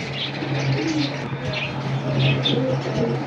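Pigeons in a collection coo in repeated low, throaty phrases against a busy background with faint chirps and a murmuring voice.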